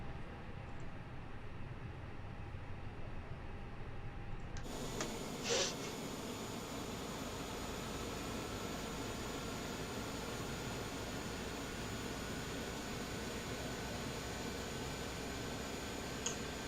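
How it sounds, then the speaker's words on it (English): Airbus A320neo engine spooling up in Microsoft Flight Simulator 2020, a faint steady hiss that jumps to a brighter whine partway through and then holds a constant drone with a thin rising tone and a brief click. "engine set to crank and start number 1"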